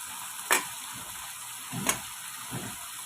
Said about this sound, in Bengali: আর এখানে আমি গেরিটাকে ভালো করে ভাজবো।